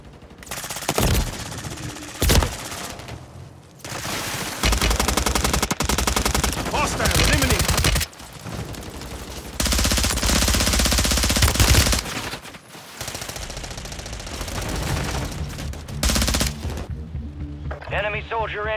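Gunfire in the Call of Duty video game, with long bursts of rapid automatic fire and single sharp shots, loud and near, separated by brief pauses, with voices talking underneath.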